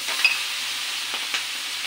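Shrimp frying in a pan give a bright, continuous sizzle with steady hiss, broken by a couple of brief clinks and scrapes of stirring, close and moderately loud with no talking.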